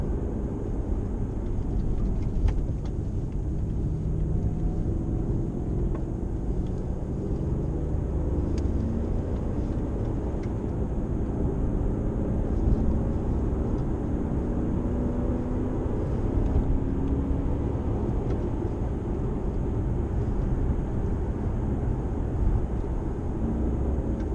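A 2007 Mercedes-Benz CL550 with a 382-horsepower V8 drones low and steady from inside the cabin while driving, with broad road and engine rumble throughout and only subtle shifts in pitch as it downshifts.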